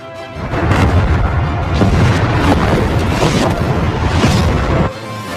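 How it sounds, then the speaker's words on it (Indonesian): Bombs dropped on enemy tanks in the war film 12 Strong explode in a loud sustained rumbling roar of blasts that lasts several seconds and then cuts to a lower background. "Tidak lama bom dijatuhkan dan berhasil mengenai musuh serta menghancurkan tank yang ada."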